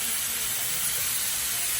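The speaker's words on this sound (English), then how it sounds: "And listen to the sizzle." Steady, dense hiss of steak bites sizzling on a hot grill, continuous and fairly close, with no talking over it.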